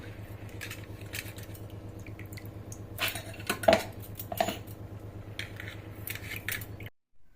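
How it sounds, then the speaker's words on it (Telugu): A spoon or hand working idli rava into ground urad dal batter in a steel vessel, giving soft wet squelching with a few sharp metallic clinks and scrapes against the pot, fairly close, then quiet at the end. "ఇప్పుడు ఇడ్లీ రవ్వలో వేసి కలుపుతున్నా"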